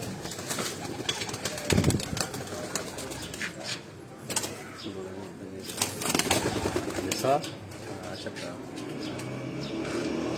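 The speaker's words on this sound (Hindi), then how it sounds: "वो चपड़ा कबूतर है जिसका मैंने आपको ऊपर शौक भी करवाया, परवाजी कबूतर" Pigeons, including a chapda flying breed, coo softly in a breeder's cage, the low burbling calls mixed with a few wing flutters and someone talking over them.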